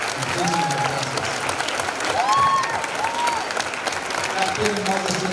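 An audience at a Rosario mission gathering applauds the Siervas de Jesús Sacramentado nuns, a steady mid-distance wash of clapping with voices and a few calls rising over it throughout.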